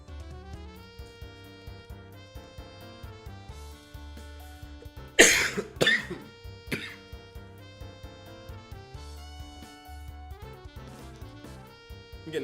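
A person coughs in a short burst of two or three loud hacks partway through, over continuous game music during a Pokémon charity stream, then the music carries on alone.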